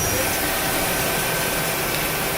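A Pinnacle L-210 CNC lathe runs at 1,500 RPM, giving a steady, loud, broadband machine whir that holds constant without change or talk.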